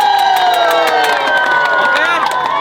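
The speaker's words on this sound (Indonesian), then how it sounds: "Tepuk tangannya lebih nyari supaya tetangga Malaysia kedengaran dari sini" A large crowd of villagers at a food-sharing event near the Malaysian border cheers and claps loudly, with shouting children and high voices layered over a steady roar of applause.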